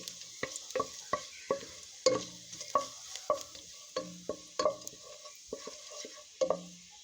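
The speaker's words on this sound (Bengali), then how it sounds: "দেখুন বাগার দেওয়া হয়ে গেছে আমার ডাল।" Cumin, black cumin, dried chilies and bay leaves fry in hot oil for tempering red lentil dal, giving soft sizzling with a steady series of stirring scrapes and taps in a pan, close and fairly quiet.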